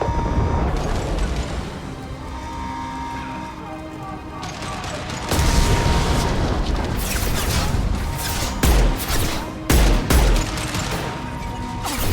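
A thrown grenade exploding in the video game Mass Effect 2, a sudden loud blast that breaks a droning battle ambience, followed by several sharp bursts of gunfire and crashing impacts.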